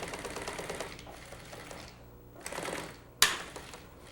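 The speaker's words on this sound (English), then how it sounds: "Finish sewing it down." A sewing machine stitches a fabric cover in fast whirring bursts that start and stop, close and moderately loud, ending with a sharp mechanical clack.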